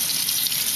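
Tap water runs steadily into a cooking pot being filled for boiling peanuts, a continuous close hiss and splash without pause.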